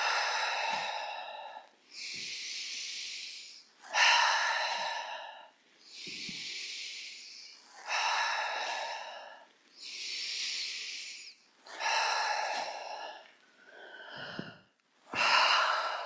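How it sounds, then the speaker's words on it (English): Slow, deep yoga breaths alternate for a long stretch: audible inhales followed by breathy, sighing exhales, close and clear, with short pauses between each breath and no speech. "Nice deep breath in. And a sigh out."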